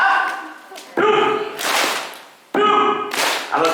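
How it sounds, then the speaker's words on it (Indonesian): An audience of parents and children slaps their thighs together in a clapping game, sharp group slaps in short bursts, alternating with someone speaking. "ibu, bapak dan anak-anak tepuk paha"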